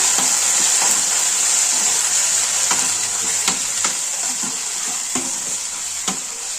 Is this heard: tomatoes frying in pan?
yes